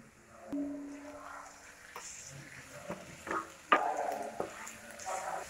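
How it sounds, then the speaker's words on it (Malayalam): Chopped tomatoes and onions stirred in a frying pan while cooking a Kerala-style beef dum biryani: soft, quiet sizzling broken by a few scattered scrapes and taps of a spoon, with no voices. "നന്നായിട്ടൊന്ന് ഇളക്കി കൊടുക്കാം. നല്ലൊരു സ്മെല്ല് വരണവരെ ഇളക്കി കൊടുക്കുക."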